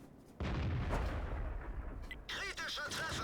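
A tank gun fires in the video game World of Tanks, hitting an enemy Fury. A loud booming blast gives way to a rumbling tail, followed by softer metallic ringing effects, with no talk over it.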